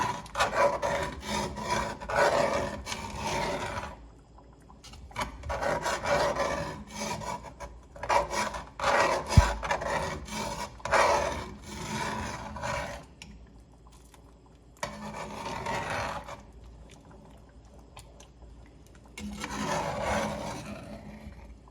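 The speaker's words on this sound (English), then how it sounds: "There's some of that good flavor stuck on the bottom, so I'm just going to scrape it out in this pan." A spoon scrapes the bottom of a pan of thickening Cajun red beans, giving repeated rasping strokes in bursts with short pauses between them.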